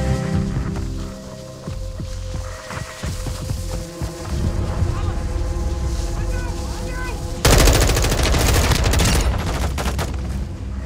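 Gunfire in the video game Warzone 2.0 DMZ, with bursts of rapid automatic shots and scattered single cracks under ongoing game noise, swelling into a dense, loud volley near the end.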